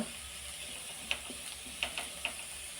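Mixed vegetables fry in a pan with little oil for fried rice, a quiet, steady hiss of sizzling broken by a few small clicks of a spatula, heard alone without talk.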